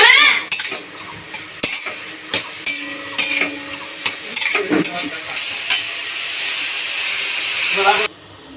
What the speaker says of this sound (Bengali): ঢাকাটা একটু খুলে নাড়াচাড়া দিয়ে নেব